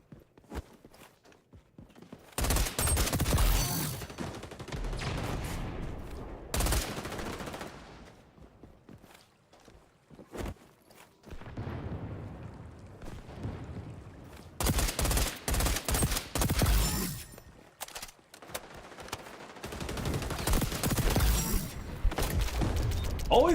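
Gunfire in the XDefiant video game: bursts of rapid shots and loud cracks come in several clustered volleys separated by quieter gaps, with footsteps and movement noises between them.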